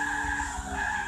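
A race car spinning out in Gran Turismo 6, a sustained tire skid over the engine drone, steady and fairly loud for about a second.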